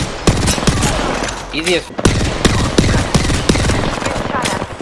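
Rapid automatic gunfire from Apex Legends, a battle royale shooter, rattling in dense bursts with sharp single shots punctuating it, mixed with game effects while players talk over the action.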